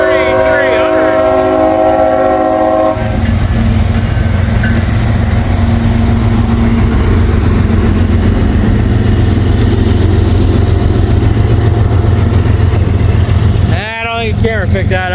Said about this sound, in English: Man, they were pulling hard to them locomotives.